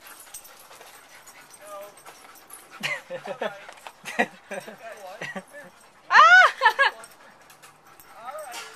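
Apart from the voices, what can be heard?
dogs whimpering while playing fetch by the water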